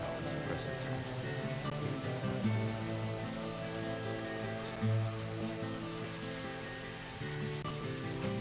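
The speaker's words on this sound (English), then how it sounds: "Now it's raining." Steady, soft rain falling in the video game Deadly Premonition, a continuous patter behind game music and ambience, with faint voices now and then.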